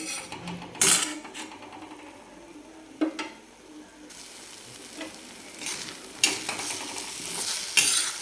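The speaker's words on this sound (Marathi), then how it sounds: "हलवून घेऊ आपण खाली चिटकाय लागलेला आहे त्याच्यामुळे मोकळं करून घ्यायचं आहे" Spoon stirring egg chutney in a pan over low heat, soft scraping and clinks over a continuous sizzle, with a few sharper knocks against the pan.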